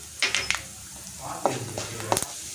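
Mustard seeds and cumin fry in hot oil alongside cashews and chana dal, crackling and sizzling in short bursts with a few sharp pops and the clink of a utensil against the pan.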